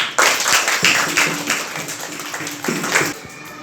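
Classroom clapping for a prize winner in a school maths lesson, a short burst of several hands clapping unevenly at close range, fading after a few seconds.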